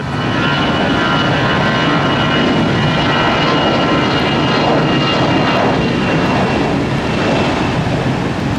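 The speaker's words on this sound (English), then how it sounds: "Got an A321 heading to Charlotte." An Airbus A321 jet airliner departs, its engines giving a loud, steady, broadband roar that holds unbroken for several seconds, with no talk over it.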